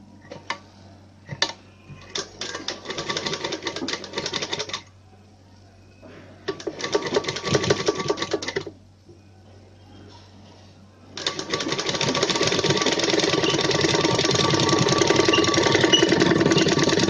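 Sewing machine stitching a neck design on a blouse, several rapid whirring bursts of needle clatter separated by pauses, with a longer continuous run at the end, close and fairly loud.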